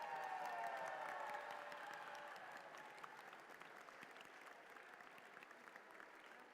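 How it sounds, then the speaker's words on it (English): Crowd at a robotics league tournament claps for the competing teams, starting with a fading tonal squeal or whistle over the first seconds, then a moderate, steady spread of applause that thins slightly toward the end. "Let's hear a big round of applause for all of the teams that competed here today."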